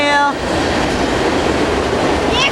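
A Norfolk Southern southbound mixed freight train rolls past at a road crossing in Columbus, Ohio, with a loud continuous rumble and rhythmic wheel clatter close by, and a horn-like tone briefly at the start and again near the end.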